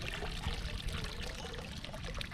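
Water swishing and pouring as a silicone gold pan is shaken and swirled, a steady close wash of liquid and grit with no pauses.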